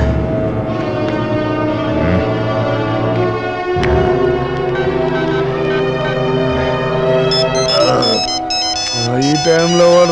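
A phone ringtone plays loudly and continuously as an incoming call, a bright repeating melodic tune that carries on for several seconds before shifting near the end.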